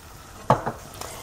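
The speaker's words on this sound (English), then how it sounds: "So I'm going to add about 3/4 cup of water here" Water poured into a pot of onion tomato sauce for a fish curry, giving a sudden hissing splash and sizzle followed by a couple of shorter bubbling bursts, close and fairly loud.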